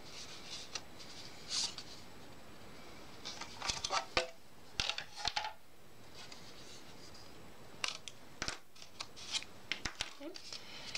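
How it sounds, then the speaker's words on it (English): Scissors trim a glued paper corner on a scrapbook page, giving a few sparse, soft close snips and paper rustles between quiet stretches, with light handling noises and a brief voice. "I can take scissors and trim that off"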